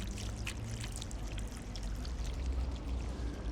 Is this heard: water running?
yes